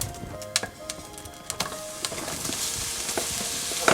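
Sliced mushrooms sizzle in olive oil in a pan over medium-low heat, with a spoon scraping and knocking as they are stirred in; the frying hiss rises steadily, close and without talk.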